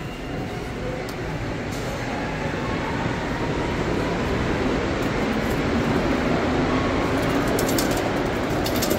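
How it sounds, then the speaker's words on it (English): Steady rumble of a fast train running on rails during a roughly 30-minute ride, a continuous broadband roar with faint rattles, heard from inside the car with no talk. "So this is like a 30-minute train ride, real fast."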